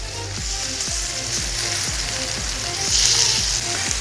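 King fish coated in masala fries in a covered pan, giving a loud, continuous crackling sizzle with a steady run of popping and spattering. No speech.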